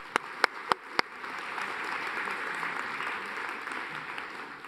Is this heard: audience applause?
yes